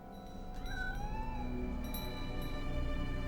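Person imitating a cat, giving a drawn-out, wavering meow with rising and falling pitch over a quiet background hum, close and moderately loud.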